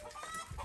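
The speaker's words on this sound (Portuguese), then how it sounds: "Pega a galinha" A chicken gives a short, faint cluck, brief and close amid a little background noise.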